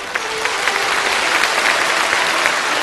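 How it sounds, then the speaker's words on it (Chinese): An audience at a Kunqu opera concert applauds loudly and steadily. Many hands clap in a dense, close wash of sound that holds throughout. "再次把掌声送给他们"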